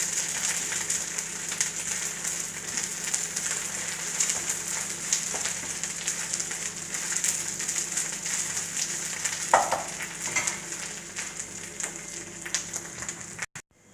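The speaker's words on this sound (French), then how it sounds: "Voilà, les épinards, ils ont été frits." Spinach frying in plenty of oil for pkaila, a steady bright crackling sizzle that runs on without pause, with a brief scrape or knock partway and an abrupt cut at the end.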